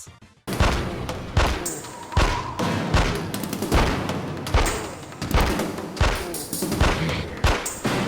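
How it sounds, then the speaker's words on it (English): Repeated gunfire at a boss in the video game The X-Files: Resist or Serve, loud punchy shots landing roughly every half to one second in a steady rhythm, with impact thuds and a dense, noisy game soundscape. "As soon as he appeared on screen, I just opened fire and he died in seconds."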